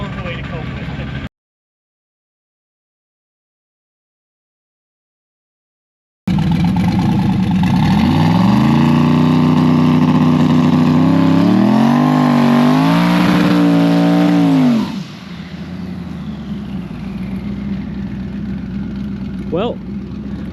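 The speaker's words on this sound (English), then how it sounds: "It does a burnout." A home-built race car does a burnout, its engine revving hard and loud with surging, wavering tones after a brief silent gap, then dropping to a lower rumble, with voices heard alongside.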